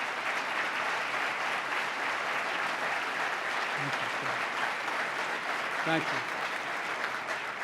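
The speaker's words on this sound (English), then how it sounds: "Let's give them a round of applause for believing in New York." A large audience at a state address gives a sustained round of applause, dense, even clapping from many hands holding steady for several seconds, with a brief voice cutting through near the end.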